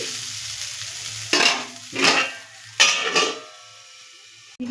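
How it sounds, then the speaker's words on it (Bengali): Pointed gourd peel paste with turmeric fries in a pan. Several loud bursts of stirring and scraping rise over a low hiss and then drop away, ending with a sudden clatter close by. "দিয়ে দেবো হলুদ, দিয়ে এটাকে আমি ভালো করে ভাজা ভাজা করে নেবো।"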